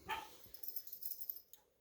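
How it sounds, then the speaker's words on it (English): A small mixed-breed dog wanting to go out gives a quick sharp yip or bark, distant and faint in a quiet room, with a soft shuffle following. "He's a little mix that you hear barking because he wants to go out."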